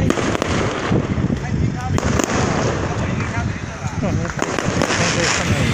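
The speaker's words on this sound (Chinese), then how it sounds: "放烟火" Fireworks set off during a temple festival procession at Dawenliao Baoan Temple, part of the Xigang Qing'an Temple incense tour, crackling and popping in rapid irregular bursts at a distance while people talk nearby.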